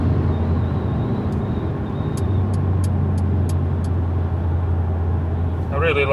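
Steady road and wind roar inside a 2019 Mercedes B200 slowing hard from highway speed, a continuous low rumble with faint ticking and no distinct tire squeal.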